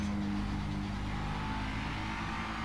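A BMW X5M revs and accelerates in GTA V, its engine droning steadily with a low, sustained mid-pitched roar that holds at a constant loud level throughout.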